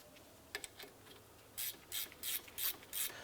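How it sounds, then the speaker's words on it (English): Ratchet snugging the front brake caliper bolts on a 2006-2011 Cadillac DTS: a few faint clicks first, then a quick run of rhythmic ratcheting bursts, close and quiet with no talk. "let's go ahead and snug them down."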